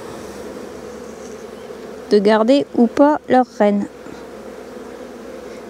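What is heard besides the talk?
honeybees buzzing in an open hive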